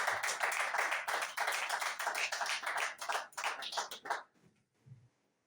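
A congregation claps together in church to acclaim the Lord, producing dense, steady rhythmic clapping that fills most of the moment before breaking off abruptly into near silence, with a faint low murmur after.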